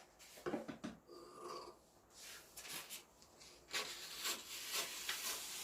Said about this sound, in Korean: 바지 밑단 한번 잘라 볼게요